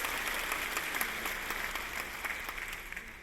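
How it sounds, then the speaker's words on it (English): A faculty convocation crowd gives a round of applause, steady soft clapping heard from a distance that holds evenly for about three seconds. "give it a round of applause."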